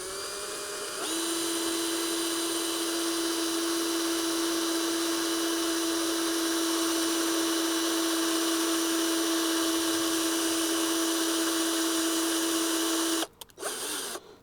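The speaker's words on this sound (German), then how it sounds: "Aluminium ist weich, fangen langsam an anzubohren und versuchen wirklich nicht über 8 mm rauszukommen." A power drill bores steadily into a soft aluminium wheel rim, a loud, continuous high whine holding for about twelve seconds, then cutting out with a few short bursts near the end.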